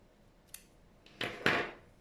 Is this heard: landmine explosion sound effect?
no